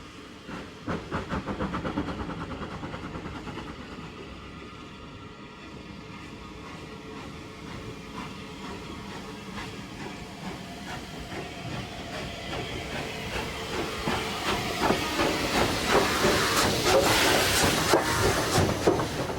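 The 257 Squadron steam locomotive labours along the Swanage Railway, with chuffing exhaust beats, hissing steam and rattling wagons, growing louder and closer toward the end.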